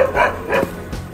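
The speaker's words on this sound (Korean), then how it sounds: "어디서 개가 짖는구나" A dog barks a few times at a distance, two or three short muffled woofs in quick succession, with no one talking.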